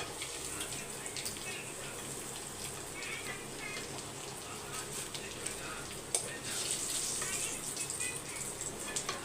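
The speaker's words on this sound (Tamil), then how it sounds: "நான் கொஞ்சமாக தான் எண்ணெய் ஊற்றி பொறிக்கிறேன்" Chicken shallow-frying in a little oil, a steady crackling sizzle with scattered sharper pops, close and continuous at moderate level.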